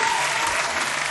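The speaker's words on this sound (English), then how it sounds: "hand claps." A short burst of dense hand clapping, steady and even, resembling applause from a group or a clapping sound effect, with no voices over it.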